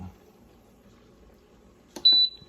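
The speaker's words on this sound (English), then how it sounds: "you push the sear button right here where it says sear." A short electronic beep sounds as the sear button is pressed on a multi-cooker, a single clear tone after a soft click, following near silence with a faint low hum.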